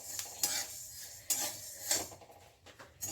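Amla being stirred in a hot wok with the gas turned off, metal spoon scraping and clinking against the pan in several sharp strokes over a soft background, no talk.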